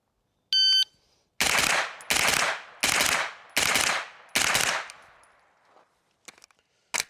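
Close, loud gunshots from an AR rifle fired in quick doubles, five sharp cracks in rapid succession after a short electronic beep, then a few faint distant pops and one final shot; no talking.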